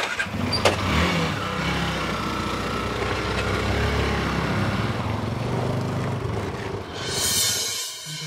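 A vehicle engine cranks and catches, then keeps running with a steady, close, rumbling idle for several seconds before it drops away near the end.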